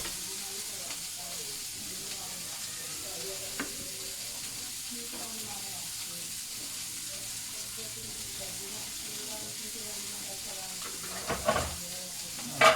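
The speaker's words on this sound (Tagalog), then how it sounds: "Tunagan natin ang manok." Chicken pieces fry with ginger in a pan for sinampalukan, giving a continuous close sizzle and hiss, with faint stirring scrapes and a couple of louder utensil knocks toward the end.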